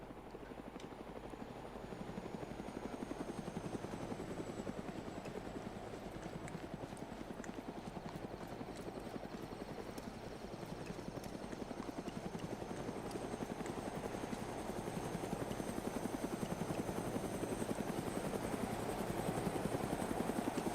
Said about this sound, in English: Speaking of which, I hear a helicopter.